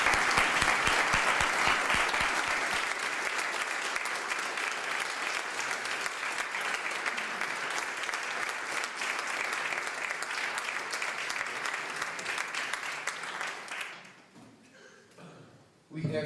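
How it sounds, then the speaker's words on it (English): Enthusiastic applause from an ordination ceremony audience honoring graduates, a dense clatter of many hands that runs steadily for about fourteen seconds before fading out abruptly. "Please give them a round of applause."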